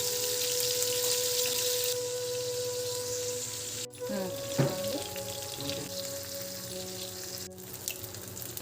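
Tomatoes fry in a pan of hot oil with a steady, close sizzle, a brief clatter partway through as more goes in, and the crackling continues under faint background hum.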